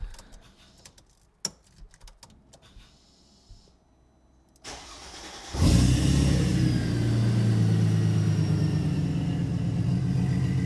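A supercharged M112K engine in a Mercedes SLK32 AMG fitted with long tube headers, cold-started: a few faint clicks and a whirring crank, then the engine catches with a loud burst and settles into a steady, rumbling high idle, close by.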